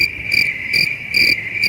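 Crickets chirp in steady pulsing bursts over a continuous high trill, loud and close with no voices.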